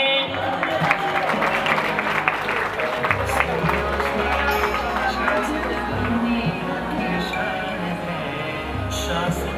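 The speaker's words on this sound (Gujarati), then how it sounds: "તાળી" An audience applauds at a Jain community gathering in Malad, with sustained clapping from a crowd over a low steady background rumble and some voices mixed in.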